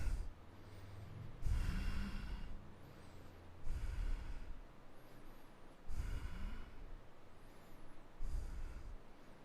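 Deep, slow breathing held in a yoga lunge, with four breathy inhale-exhale swells at a steady two-second rhythm, close and soft, faint whistly airflow over a quiet room background with no talk.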